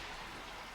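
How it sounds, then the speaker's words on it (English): Soft, even patter of morning rain falling outside, a faint continuous wash with no other sounds. "Especially the sound of the rain in the morning"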